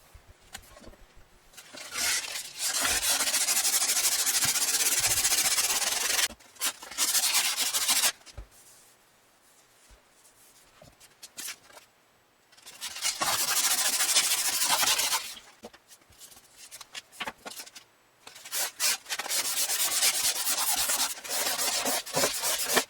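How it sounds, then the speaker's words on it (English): Rhythmic hand sanding of a wooden Jazz bass guitar neck: long bursts of raspy, hissing rubbing strokes, broken by brief quiet pauses, close and fairly loud. "I'm finished sanding."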